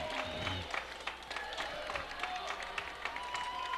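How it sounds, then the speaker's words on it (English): Football fans at a home high school game stand and applaud as the final whistle sounds, a broad wash of clapping and crowd noise with scattered cheers and voices mixed throughout. "Fans on their feet, applauding their paper makers who have held service here at home tonight"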